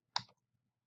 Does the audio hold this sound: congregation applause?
no